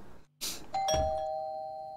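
A doorbell rings inside a house in a horror game. A bright electronic ding-dong chime follows a brief moment of silence, and its tone sustains clearly and evenly until the clip ends.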